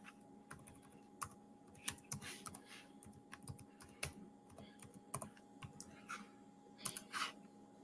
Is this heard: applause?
no